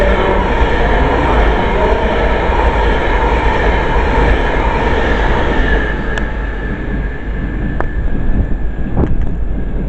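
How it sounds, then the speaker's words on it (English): An Avanti West Coast Class 390 train on a Preston to London Euston service passes through Crewe station with a loud, continuous roar and wheel rumble, steady throughout with slight swells and faint squeals. "about to pass through now is a Avanti West Coast service from Preston to London Euston"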